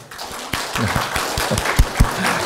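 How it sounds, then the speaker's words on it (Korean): A church congregation applauds during a revival service, a steady wash of many hands clapping together at moderate volume, with a few sharper individual claps near the end. "우리 이분들 감사하니까 박수 한 번 더 올립시다."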